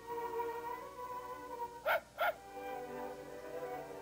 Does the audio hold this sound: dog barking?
yes